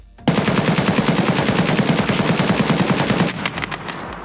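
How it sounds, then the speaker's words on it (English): Full-auto burst from an AK103 rifle in the game Escape From Tarkov, a long rapid, evenly spaced string of loud close shots for about three seconds, then fading echoes. "Look at how tight the grouping is on this AK right here"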